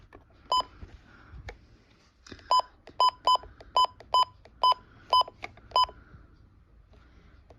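Button presses on a Midland weather radio alarm clock while the time is being set give a run of short, evenly spaced electronic beeps, about nine of them, loud and close, with faint background noise between.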